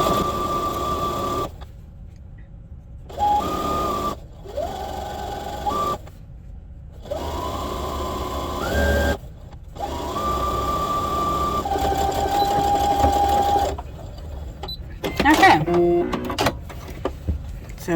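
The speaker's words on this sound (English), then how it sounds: "we will start doing a straight stitch all the way down, lining up our presser foot with the edge of your fabric" A sewing machine runs a straight quarter-inch seam along the fabric edge of a harvest apron, its whirring motor starting and stopping in repeated runs of varying length, with brief pauses between.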